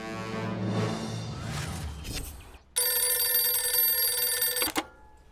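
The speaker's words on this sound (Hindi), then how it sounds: "मानव, कमिश्नर सर को फोन लगा।" A loud electronic phone ring buzzes steadily for about two seconds after a stretch of music-like tones, then cuts off with a click.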